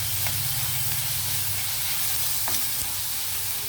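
Onions for a raw banana and dried prawn curry sizzle steadily in a pan, giving a constant close frying hiss with a couple of faint clinks and no talk.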